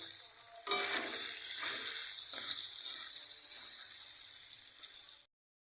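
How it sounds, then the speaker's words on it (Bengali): Paneer pieces fry lightly in a pan, lightly salted, giving a steady, bright sizzle with soft stirring scrapes, close up and with no talking, before it cuts off abruptly. "এবার পনিরগুলো আমি হালকা করে ভেজে নিই"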